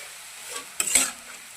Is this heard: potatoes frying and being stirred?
yes